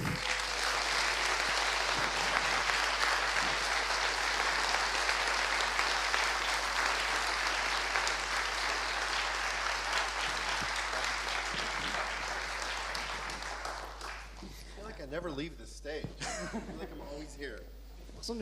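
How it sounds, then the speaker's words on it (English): Loud, sustained applause from a large convention audience in Toulouse welcoming Greg Nicotero fills most of the stretch, then fades as a voice begins speaking over the tail end. "nous allons vous demander de réserver un tonnerre d'applaudissements à Monsieur Greg NICOTERO"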